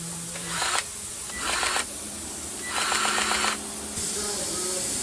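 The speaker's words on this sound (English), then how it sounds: "I'll put the grease gun on the Zerk here and push some out" A grease gun pumped on a Zerk fitting of farm equipment, giving three bursts of ratcheting mechanical clicks with short pauses between, close by and moderately loud over a low background hum.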